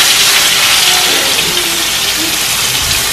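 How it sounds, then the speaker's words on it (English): Neck bones frying in a pot of cooking oil give a steady, loud, dense sizzling hiss that runs unbroken without any talk. "I put a little cooking oil in here. So I'm going to let this fry."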